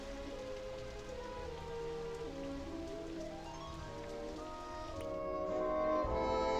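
Steady rain hiss inside the theme-park game Roller Coaster Tycoon 3, a continuous wash of raindrops on surfaces that holds even throughout and swells a little louder toward the end, with no voices over it.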